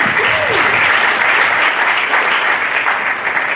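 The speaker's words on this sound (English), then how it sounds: "Give them a round of applause." An audience at a science talk gives sustained, dense applause that holds steady and loud throughout, with a faint voice briefly audible near the start.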